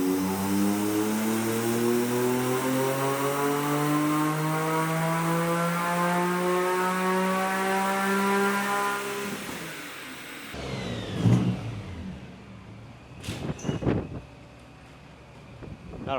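BMW Z3 M coupe engine revving up to redline, a loud, rising exhaust roar climbing steadily for about nine seconds before dropping off, followed by scattered clanks and brief voices.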